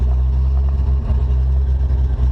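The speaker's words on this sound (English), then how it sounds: "the carburetor's not working right, so it dies, it won't idle" An International Harvester R160 truck engine with a faulty carburetor runs loud and close, a rough, steady low rumble that surges slightly but keeps going without stalling.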